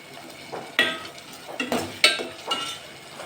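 Turmeric being stirred into hot oil in a pan for chitranna, a few close spoon scrapes and clinks against the pan over a faint sizzle.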